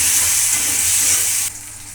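A tomato fries in a pan with oil for a Telangana egg fry, giving a steady, close, loud sizzle that drops slightly in level near the end.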